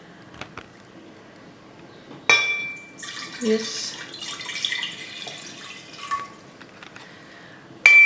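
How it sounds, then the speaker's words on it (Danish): Water is poured from one glass into a tub during a children's conservation experiment, giving a few seconds of splashing and trickling, close by, with brief talk nearby. "Så tager du det ene glas og hælder over i den der balje."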